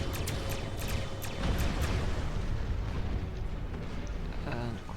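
In the Star Trek Online space game, torpedoes are fired at Klingon ships, heard as a run of deep booming blasts and sharp pops over a steady rumble, with a voice talking at times.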